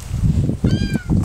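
A cat meows, with a clear short meow in the middle flanked by low rumbling noise, close and fairly loud.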